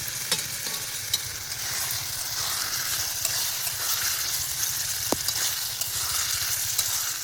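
Kuche fish marinated with salt and turmeric fries in oil over a village-style outdoor fire on the Jamuna riverbank, a steady close hiss of sizzling with faint crackles and a few stirring scrapes, and no voices.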